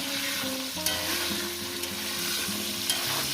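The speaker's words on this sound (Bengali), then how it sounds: "এই পটল পটলগুলো দিয়ে আর আমি মিনিট চার পাঁচ মিনিট ধরে ভেজে নেবো" Pointed gourd (potol) pieces frying in hot oil with potato in a pan: a continuous close sizzle with stirring scrapes and a few soft clicks of the utensil, with no voices.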